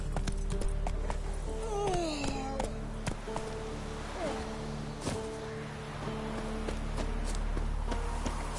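A horse trots in The Witcher 3: Wild Hunt, rhythmic hoof clip-clops running steadily through the scene over a low ambient bed of wind and rustling, with faint voice-like tones drifting in.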